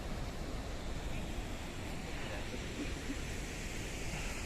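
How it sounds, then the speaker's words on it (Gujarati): Water released from Kakrapar dam spilling into the irrigation canal, a steady, broad rushing roar heard from some distance, constant throughout with a little wind noise and no clear talk. "પાણી પડી રહ્યું છે તે પણ જોઈ રહ્યા છે"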